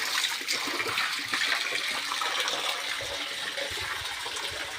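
Water running steadily in a buffalo shed, a continuous rushing gush from a tap or pipe at moderate loudness with no pauses.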